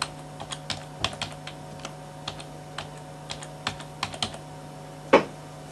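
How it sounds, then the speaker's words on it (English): Computer keyboard keys tapped in an irregular series of crisp clicks while a password is entered, close and fairly quiet over a steady hum, ending with one louder keystroke. "I will type in a password."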